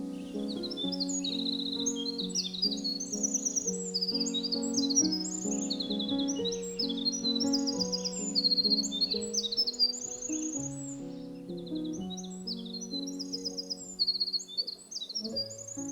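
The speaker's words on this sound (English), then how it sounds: "This tiny little bird is a winter wren." A tiny winter wren sings on a homestead, loud and close, pouring out rapid, sustained trills and high chirping phrases across the whole stretch. Deep droning tones run steadily underneath.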